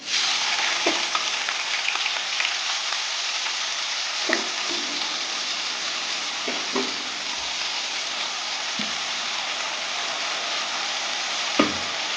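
Cumin seeds and chopped onions fry in a hot pan with a steady, close sizzle, broken by occasional sharp clicks and scrapes of stirring.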